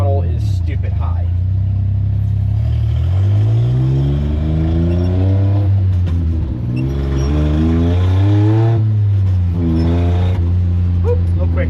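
Rusty Daihatsu Hi-Jet kei truck engine revving hard while driving: a close, loud, buzzy motor climbing and dropping in pitch through repeated rev surges and gear changes, with rattling underneath.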